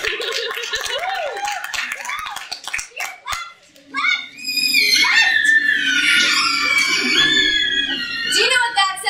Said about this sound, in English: Those are the shrieking eels.